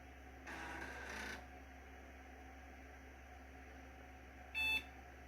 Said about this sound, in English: I think that was a Clonezilla beep.